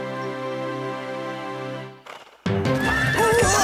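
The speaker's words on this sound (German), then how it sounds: "Pferdchen!" A horse whinnies in a long, loud, wavering neigh close by, followed by a short pause and then the clip-clop of hooves mixed with more bright animal cries, with no talking.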